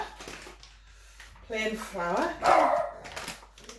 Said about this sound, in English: Sorry about this, my dogs are barking.